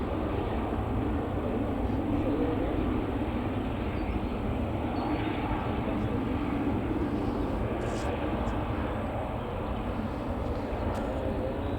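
Aircraft noise at Manchester Airport, a 14-year-old plane, gives a steady broadband roar with a low rumble that holds throughout, fairly distant and unbroken, with no voices over it.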